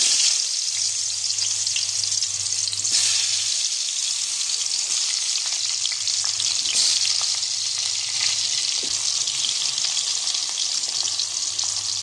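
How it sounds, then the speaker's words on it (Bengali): Pointed gourd (potol) frying in hot oil in a wok, giving a steady, close sizzle that runs unbroken through the whole stretch, with faint stirring scrapes and no voices. "এরপর একে একে পটলগুলো দিয়ে ভেজে নেব।"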